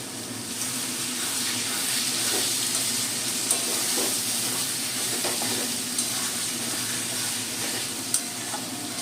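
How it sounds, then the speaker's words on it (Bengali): A spice paste of ground coriander with a splash of water fries in a pan, a steady close sizzle with soft scraping from stirring and occasional small clicks, continuous for nine seconds. "আমি 2 মিনিট মশলাটা কষে নেব"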